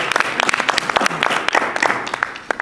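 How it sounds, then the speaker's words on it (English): Audience applause at a student club general meeting, dense and lively clapping from a room full of people, loud and steady before it fades slightly at the end. "can you guys give a huge round of applause for Natalia?"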